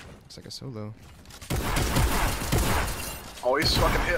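Explosive bursts and rapid gunfire crackle through a Fortnite match, loud and busy, with excited voices talking over the blasts.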